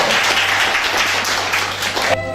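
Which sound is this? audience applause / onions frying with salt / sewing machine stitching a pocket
audience applause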